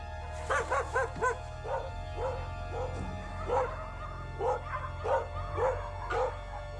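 Dogs barking in a Russian town, a series of repeated close barks and yips in uneven bursts over a low steady background rumble.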